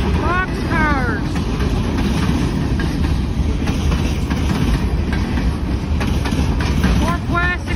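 Norfolk Southern freight cars, including plastics hoppers, roll past at Greenfield with a loud continuous rumble, rhythmic clatter and squealing wheel screeches, under heavy wind noise and a voice speaking briefly.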